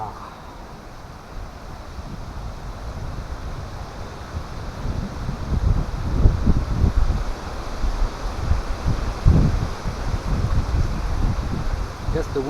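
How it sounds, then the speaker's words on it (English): Gusty wind buffeting a microphone at a wild camp, a rough low rumble that builds and swells in strong bursts over a steady hiss. "I guess the wind's coming from behind me."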